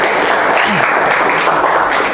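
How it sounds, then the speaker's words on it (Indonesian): A room of participants in a group discussion session claps together, a brief, dense and fairly loud burst of applause with faint voices underneath. "Ya, tepuk tangan semuanya."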